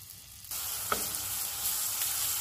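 Food browning in a hot pan sizzles steadily and crisply for a couple of seconds, with a faint utensil tap, close and without talk.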